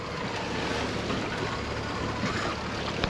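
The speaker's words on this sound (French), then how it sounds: "On avance donc doucement au moteur" A sailboat motoring slowly through fog on a windless morning in the Strait of Gibraltar near Tarifa, a steady low engine drone mixed with wind and water rush.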